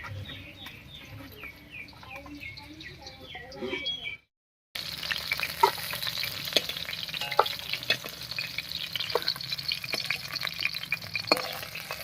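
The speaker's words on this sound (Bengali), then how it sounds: "এই মাছ কটা ভাজা হয়ে গেছে নামিয়ে নিচ্ছি" Pieces of rui fish fry in hot oil, a continuous sizzle broken by clinks and scrapes of stirring; chickens cluck in the background early on, then after a brief silent gap the frying returns, busier and louder.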